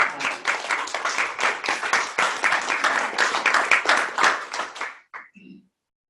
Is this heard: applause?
yes